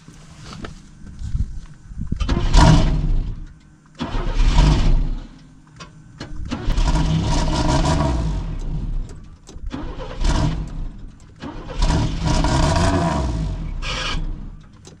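A 1990 Pontiac Firebird third-generation engine with a suspected fuel pump problem, cranking loudly in repeated long grinding bursts separated by brief pauses, close and harsh.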